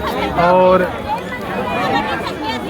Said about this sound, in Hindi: भीड़ मित्रों बहुत ज़्यादा है